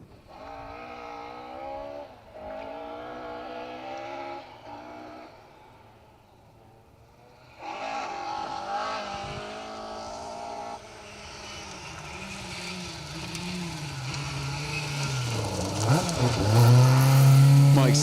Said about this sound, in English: Managed to get the car going by the sounds of it.